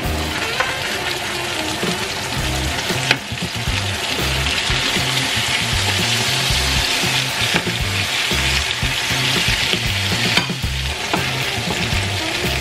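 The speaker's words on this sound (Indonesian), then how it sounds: "terus kita goreng sebentar ikannya di sini" Loud, steady sizzling of salted gourami fish frying in hot oil in a pan, with occasional crackles and spatters continuing throughout.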